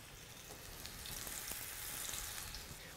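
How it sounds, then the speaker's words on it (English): Thai-style fish cakes with red chilies, garlic and lime leaves fry in hot oil, giving a steady, close sizzle with faint crackles and pops throughout. "While these are frying"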